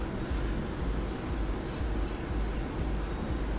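Steady engine drone of a MiG-15 jet aircraft in flight in a combat flight video game, a continuous loud hum with faint rhythmic ticking above it, no talk.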